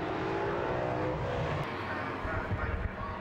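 A race car at Brands Hatch circuit sweeps through Graham Hill Bend, its engine droning loudly and fading as it passes, with other cars rumbling behind.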